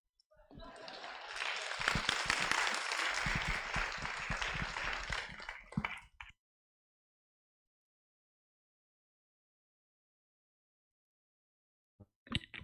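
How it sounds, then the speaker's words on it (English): Applause for panelists leaving the stage at a literary festival in Kampala, a loud burst of clapping and cheering that lasts about six seconds, then cuts to silence before a brief sound at the end. "Another round of applause for the panelists as they get off stage."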